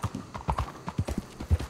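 Horse hooves clip-clop in Red Dead Online at a brisk, regular walking rhythm, close and distinct, with a faint creak of tack between steps.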